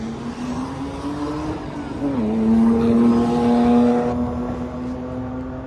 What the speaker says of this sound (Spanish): Volvemos a los típicos arrancones.